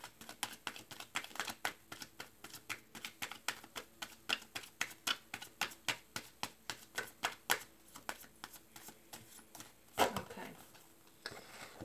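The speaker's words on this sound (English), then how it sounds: "Last shuffle." Tarot cards being shuffled by hand, a long run of quick, crisp riffling taps in a steady rhythm, close and fairly quiet, ending with a slightly louder knock.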